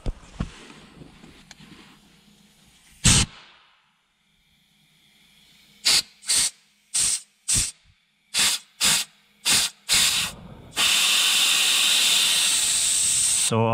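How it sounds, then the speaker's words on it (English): Compressed air blows through a small rubber hose on a Smart Car CDI engine, with a series of about eight short sharp hissing bursts followed by one long continuous loud hiss, preceded by an earlier single burst. "Don't blow it out with a whole lot of pressure, because it is a little rubber hose"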